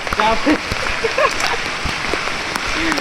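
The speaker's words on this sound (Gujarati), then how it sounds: "હવે વરસાદ પણ ઓછો પડી ગયો છે" Light rain falling outdoors on a hill trip, a steady patter of drops under close, chatty voices.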